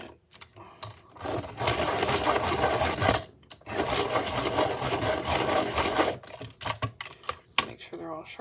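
Artist's Loft colored pencils are sharpened in a hand sharpener, two long stretches of dense scratchy rasping grind with a brief pause between, followed by lighter intermittent scraping as a person talks.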